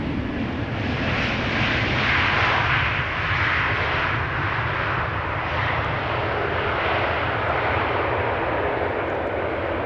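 An airplane roars in on an arrival runway at Amsterdam Schiphol Airport, a loud, broad, continuous engine rumble and rushing noise that swells slightly and holds steady close by.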